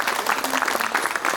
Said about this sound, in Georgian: დავაჯილდოვოთ აპლოდისმენტებით ანი კამლაძე